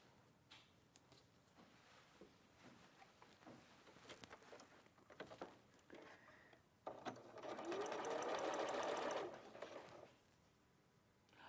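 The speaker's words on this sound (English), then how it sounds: "So then I'm just carrying on and I'm stitching these around." A sewing machine stitches around quilt pieces for a sea wall quilt, first with faint scattered handling clicks, then a short steady whirring run of about three seconds before stopping.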